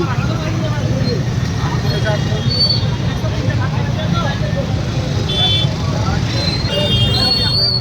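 A jammed main road with cars and bikes produces a dense, constant roar of idling engines and traffic, mixed with crowd babble, a few horn-like tones, and voices talking nearby.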